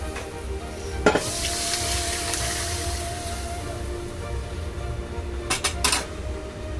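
Boiled lentils hit a hot pan of masoor dal with turmeric, with a steady loud sizzle and frying hiss throughout and a few sharp metallic scrapes and clinks of a spoon against the pan.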